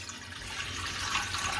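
Water poured into a pot to boil for Gujarati rice, a short, steady splashing stream heard up close with no talking.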